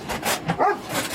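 A dog barks a few short, sharp times at close range, with a hungry, eager edge, the yips spaced unevenly across a second or so with no talk over them.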